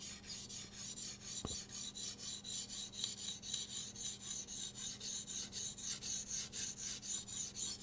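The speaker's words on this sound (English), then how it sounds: "Again, still a very coarse stone, but my intention is to just clean that bevel up, flip that burr," A knife is drawn over a coarse whetstone in steady, even rasping strokes, about three per second and continuing throughout, close and quiet with no voices.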